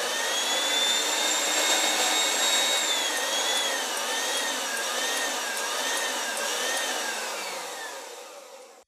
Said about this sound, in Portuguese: agora eu tenho a batedeira ligada aqui na tomada